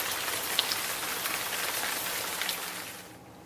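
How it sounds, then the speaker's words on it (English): Steady rain falls outside as a dense, even hiss with scattered droplet taps, moderately loud and without voices, fading slightly toward the end. "It's raining outside."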